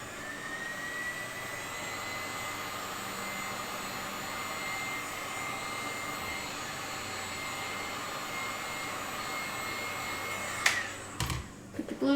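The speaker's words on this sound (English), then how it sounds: "Put the blow dryer." A blow dryer heating poured surfboard resin gives a steady, fairly quiet whirring hiss, ending in a few close knocks and handling clatter.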